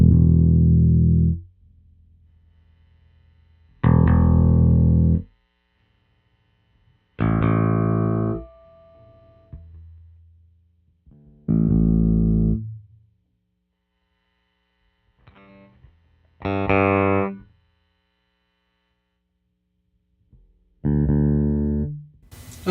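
Bass guitar notes from a Squier Vintage Modified Precision Bass PJ with the tone knob all the way down, dark and muffled, plucked one at a time with pauses between, each note ringing then cutting off, close and clean.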